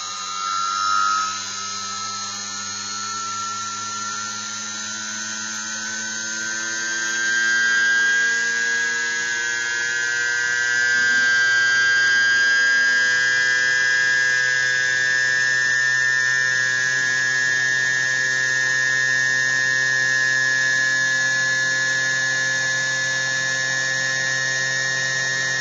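A Muller motor driven by an outrunner motor spins at around 8000 RPM on a bench, giving a steady high whine with bright tonal harmonics and a constant hum, smooth and continuous throughout.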